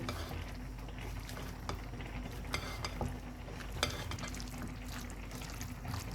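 Mango salsa ingredients, including lemon juice, salt and black pepper, are stirred together in a bowl, giving a faint, steady wet stirring with occasional soft clinks of a utensil against the bowl.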